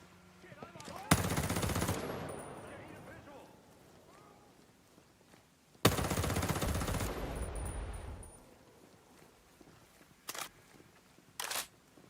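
Two long, loud bursts of rapid automatic rifle fire from an M4A1-style weapon in Ghost Recon Breakpoint, each about two seconds of fast chattering shots, followed by two short bursts near the end and quiet gaps between.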